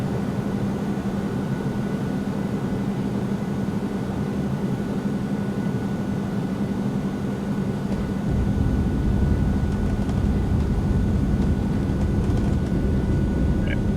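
An Eclipse 550 jet touches down in X-Plane 11, its steady engine roar and broadband rush filling the clip, growing louder and rougher partway through as the wheels meet the runway and the plane rolls out.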